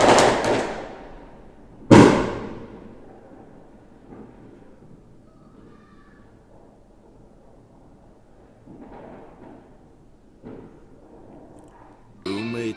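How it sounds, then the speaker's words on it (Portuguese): Fireworks bursting during a film trailer, two sharp loud booms near the start followed by a low rumbling tail, fainter scattered pops later and another burst at the very end. "Espera passar os fogos, né,"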